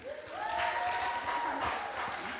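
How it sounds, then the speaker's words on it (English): An audience at a performing arts conference at the Kenya National Theatre claps as a speaker walks to the stage, a dense, fairly distant round of applause lasting a couple of seconds. "Applause as he comes to stage."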